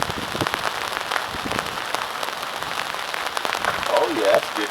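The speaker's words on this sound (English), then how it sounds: "Right in the middle of the pouring down rain." Heavy rain pours down on the Tennessee River during a catfishing trip. It makes a dense, continuous patter with scattered sharp droplet ticks, loud and close throughout, and a faint voice comes in near the end.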